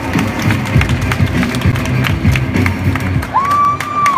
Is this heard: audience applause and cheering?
yes